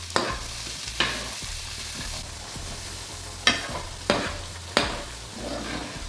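Mushrooms and tomatoes frying in a rice mix in a pan, a continuous close sizzle punctuated by about five sharp scraping strokes of a spoon stirring, with no talk.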